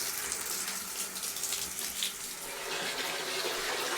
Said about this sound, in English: Now I'm going to fill the tub with hot water.